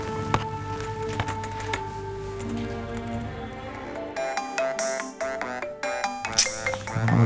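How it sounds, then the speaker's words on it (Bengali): A phone ringtone rings indoors, a melodic electronic tune of repeating tones that plays on steadily at moderate volume, with no talking over it. "কে ফোন করলো রে ভাই"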